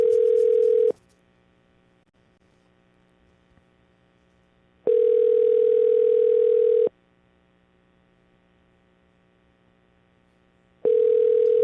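A steady telephone tone sounds in long beeps, about two seconds each with gaps of roughly four seconds, clear and loud while a call is placed, with no talking.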